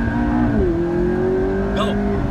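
McLaren MP4-12C engine revving under acceleration on a test drive, a steady close drone whose pitch climbs after a brief dip, with a short squeal near the end.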